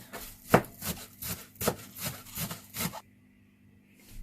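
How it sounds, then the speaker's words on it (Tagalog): Knife chopping spring onion into small pieces on a board, a run of about eight sharp close cuts in uneven rhythm over three seconds, then near silence. "hihiwain lang natin uh, ng maliliit ang ating sibuyas"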